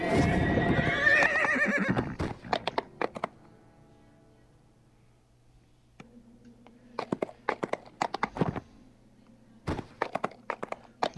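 Horses in a video game give a loud whinny up front, then hooves clop in uneven bursts of steps, with quieter stretches between them.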